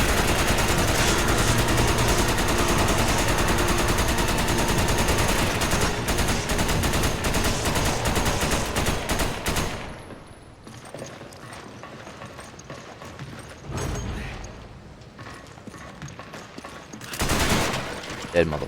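Dense, loud gunfire in Resident Evil 5 rattles continuously for about ten seconds as rapid fusillade bursts, then thins out into a few scattered shots and clanks, with some talking.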